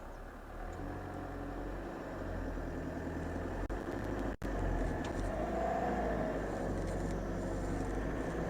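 A four-wheel-drive car in first gear gives a steady, close engine rumble as it pulls away, holding an even drone with one brief click partway through.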